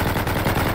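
Gunfire in a GTA V zombies mod video game, a dense burst of rapid, loud shots blending into a continuous rattling barrage.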